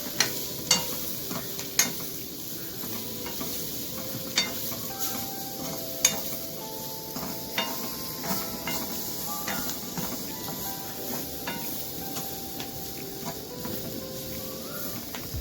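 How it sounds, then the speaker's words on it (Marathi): Spring onion greens stirred as they fry in a little oil in a pan, with a steady close sizzle and hiss and occasional sharp scrapes and knocks of the spoon against the pan, no voices. "कांद्या पात्याला हलवून घ्यायचं चांगलं. तेल जास्त नाही टाकायचं."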